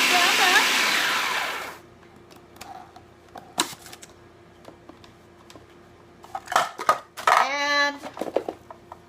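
Kitchen appliance grinding vanilla chocolate cookies into fine crumbs, a loud steady whir for nearly two seconds that cuts off, followed by faint clicks, taps and short rattling bursts of handling.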